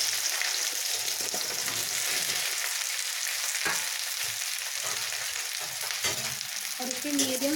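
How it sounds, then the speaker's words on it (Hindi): Cut okra frying in hot oil for bhindi do pyaza, a continuous close crackling sizzle with occasional stirring clinks, no talking. "तो यहाँ पे हमारा तेल अच्छे से गर्म हो चुका है। अब इसमें हम कटे हुए भिंडी को डाल देंगे"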